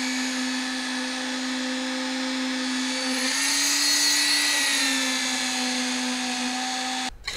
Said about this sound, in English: we would use the vibrator to get into all the places